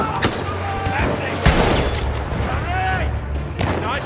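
Gunfire in the video game Battlefield 1, with bursts of shots and sharp cracks over a rumbling battle backdrop, layered with in-game radio chatter and voices.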